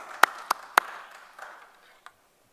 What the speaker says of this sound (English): the round of applause for you